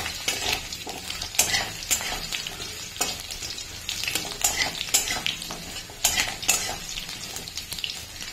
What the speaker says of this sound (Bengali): দেখেছো, আলু প্রায় ভাজা হয়েই গেল